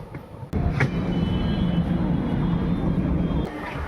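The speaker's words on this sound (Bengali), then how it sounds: "আমাদের ট্রেন এই মুহূর্তে ছেড়ে দিয়েছে বারাণসী জংশন থেকে" A train pulls out of Varanasi Junction, heard from on board as a steady, fairly quiet low rumble with faint rattling after a sudden onset.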